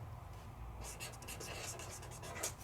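Bullet tip of a dual-tip brush pen writing on paper, a run of soft, quick scratchy strokes close up, starting partway in and continuing in short bursts over faint background noise.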